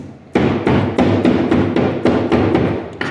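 A series of hollow smacks on a four ball tester to settle grease, about eight firm thuds at a steady rhythm, close and fairly loud with no talking.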